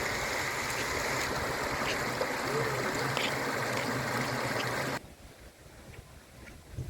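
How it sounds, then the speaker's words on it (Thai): Steady broadband rush of a flowing forest stream fills the first five seconds, then drops to a quieter, sparser outdoor forest ambience. "น้ำไหลพี่น้องเอ้ยคุณ"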